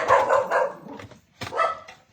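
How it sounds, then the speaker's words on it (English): A dog barks nearby in a few loud, sharp woofs, with a short pause before a final bark and no talking over it. "Now I hear the dogs."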